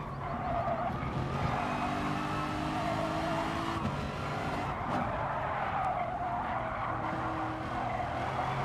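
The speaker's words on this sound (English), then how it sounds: "Oh, it's starting to drift a bit." Car tires skid and squeal continuously during a drift in GT Sport, a steady sustained screech over engine noise lasting several seconds, loud and close.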